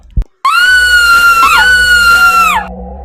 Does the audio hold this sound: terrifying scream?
yes